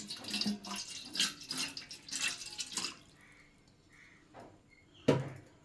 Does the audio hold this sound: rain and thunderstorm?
no